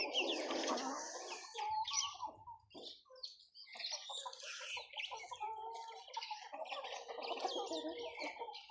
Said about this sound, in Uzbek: Endi qichqiriqqa kirgan xo'rozlar hammasi qichqiradi.